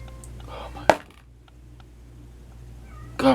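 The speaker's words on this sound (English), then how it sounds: "I hate it when he meows like that." A house cat meows indoors: a sharp short meow, a quiet pause, then another louder meow at the end, with faint low background sound between.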